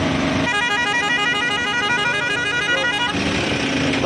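Auto rickshaws honking in dense traffic in Ulavapadu, Andhra Pradesh, many loud horns overlapping nonstop, close by.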